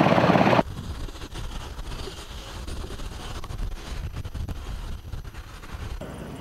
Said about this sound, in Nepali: यो नेपाली सेनाको हेलिकप्टर त्रिभुवन विमानस्थल उत्रदा सुनिएको आवाज हो।